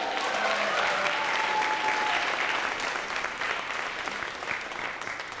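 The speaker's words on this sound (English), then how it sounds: "can we celebrate and give Brazil a round of applause?" A school audience at a student leadership day applauds in a steady, even patter of many hands, moderately distant, easing off slightly toward the end with no talking over it.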